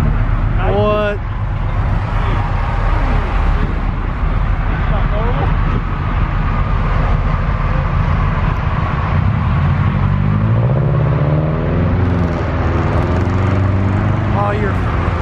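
A pro-charged pink Mustang with nitrous pulls away from a car meet with a loud, continuous engine roar and rumble that swells throughout. Crowd voices sound over it.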